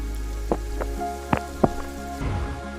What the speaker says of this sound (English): Rain touches the earth for the first time in months